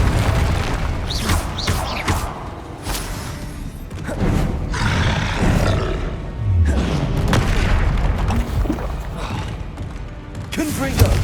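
Confringo blasting spells in Hogwarts Legacy burst with heavy booms and rumbling impacts, repeated through continuous loud combat noise, with a voice calling out spell names over the blasts.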